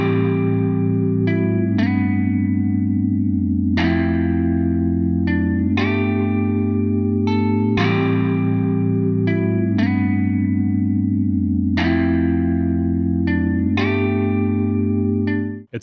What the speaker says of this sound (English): Check out this patch where I had the notes individually pitch bend differently to different notes within the